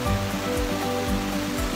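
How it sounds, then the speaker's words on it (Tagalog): Heavy rain pours steadily at a safari park, a dense continuous hiss and wash with low tones running underneath, loud and close for the whole short stretch, with no voices. "Pero ulan pa kaayo."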